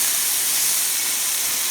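Steaks sizzle steadily in a hot pan while being seared on all sides, a loud continuous hiss and spatter with no pauses and no voices.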